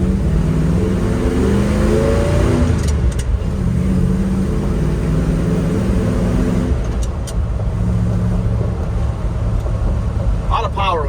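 A 1972 Ford F-250 Ranger 4x4 pickup with a 390 engine and four-speed transmission accelerates in second gear, its engine droning loud and steady from inside the cab as the pitch climbs and shifts.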